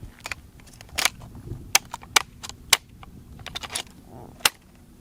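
Semi-automatic gun fired in single shots outdoors: several sharp, separate cracks spaced irregularly, loud and close, with faint background noise between them and no talk.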